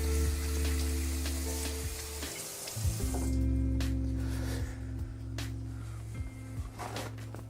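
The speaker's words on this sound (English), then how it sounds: "I gotta rinse off my hands real quick." Water from a kitchen tap runs as hands are rinsed under it, a close, continuous splashing hiss. A low humming tone sits beneath it, and the flow thins and changes partway through.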